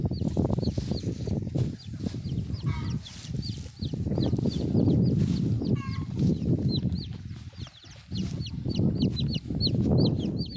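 A hen and her chicks at the nest: repeated high, thin peeping from the chicks over low, throaty clucking from the hen, close and continuous, with a brief rustle or flutter of wings partway through.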